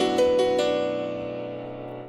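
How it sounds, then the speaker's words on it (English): A grand piano sample from a Kontakt library plays in the left channel, with three quick struck notes near the start. The notes are followed by a sustained chord that rings out and slowly decays, close and clear, with no voices. "So I took this grandeur piano from the Contact library."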